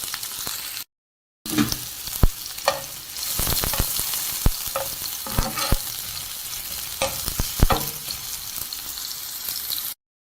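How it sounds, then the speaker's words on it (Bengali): Chopped onion dropped into well-heated mustard oil, a loud close sizzle that bursts in after a short silence and keeps crackling steadily with sharp spatters and stirring scrapes until it cuts off at the end. "সরিষার তেলটা খুব ভালোভাবে গরম হয়েছে। এখন আমি এটার মধ্যে দিচ্ছি 1/2 কাপ পেঁয়াজ কুচি।"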